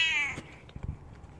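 A house cat gives a single clear, close meow that fades into quiet rustling and small thumps, with no talking.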